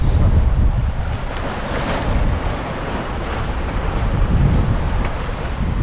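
Out at sea off the Desertas islands near Madeira, sailing in rough conditions, strong wind roars against the microphone over constant breaking waves and surf, loud and unbroken for the whole stretch, with no talk.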